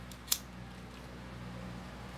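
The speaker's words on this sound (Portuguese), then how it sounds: "Aí eu venho com a tesoura, corto esse excesso." Scissors cutting off excess ribbon while making a hair bow, a single sharp snip early on, close and brief, followed by quiet room tone.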